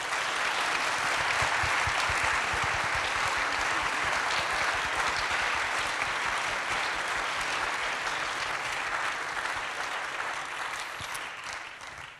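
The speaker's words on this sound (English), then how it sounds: "Can we give them a round of applause?" Sustained audience applause at a college convocation celebrating designation as a Hispanic-Serving Institution, dense clapping from a large crowd holding steady for about twelve seconds before easing slightly at the end.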